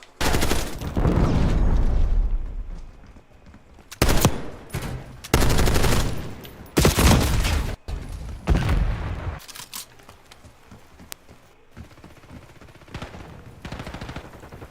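Gunfire in the video game Call of Duty: loud sustained automatic bursts in several long volleys, then quieter scattered shots and rumble toward the end.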